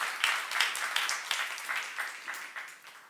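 A church congregation at a youth service claps in a soft, rhythmic pattern of brief bursts a few tenths of a second apart, fairly faint and somewhat distant, with no speech over it.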